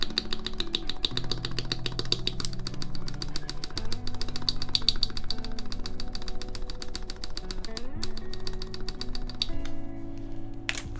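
Typing on a RAMA WORKS U80-A mechanical keyboard, with a steady stream of close, crisp clacky keystrokes over faint background music.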